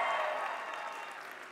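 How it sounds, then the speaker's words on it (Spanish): Audience applause at a popular science talk on the big bang machine, a dense wash of clapping that starts strong and slowly tapers off over a moment. "Aplauso, aplauso, aplauso."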